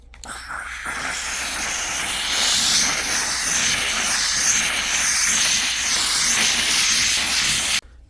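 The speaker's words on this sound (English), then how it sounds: "So we're going to steam a little bit more here where we have the stain." A VEVOR steam cleaner releasing a loud continuous hiss of steam at close range onto a stained surface, swelling after a second and cutting off abruptly near the end.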